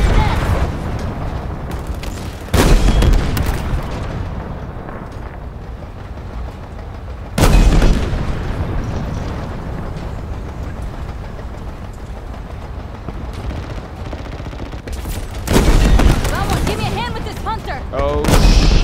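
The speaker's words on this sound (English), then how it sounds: "Oh, it's a rocket." In the Halo Infinite campaign, rockets fire and explode in heavy, booming blasts that come in about four loud bursts, with rumbling gunfire and combat noise filling the gaps in between.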